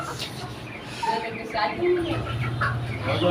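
Caged chickens cluck and murmur close by, with occasional louder squawks, while people talk over them.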